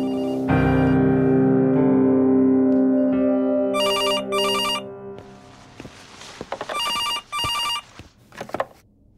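A telephone rings in two short double bursts, loud and close, after a sustained low musical drone and some rustling and knocking.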